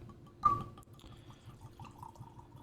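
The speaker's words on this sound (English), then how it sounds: "we'll pour the Añejo in the glass now" Añejo tequila splashes briefly into a glass, a short liquid pour with a bright glassy ring, followed by faint dripping sounds in a quiet room.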